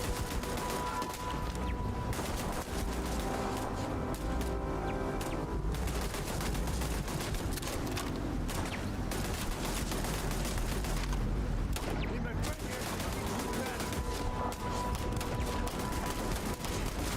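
Sustained, dense gunfire from the video game Starfield: rapid bursts of shots and booming impacts, loud and near, filling the whole stretch with hardly a pause.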